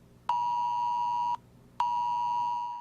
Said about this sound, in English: the heart attack inducing Amber Alerts on our phones